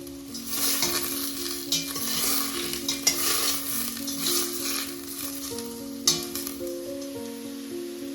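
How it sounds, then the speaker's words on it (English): Onions sauté in butter in a pan with a steady close sizzle and hiss. A utensil scrapes and clinks against the pan throughout, with a few sharper knocks. "And sautéing the onions with the butter."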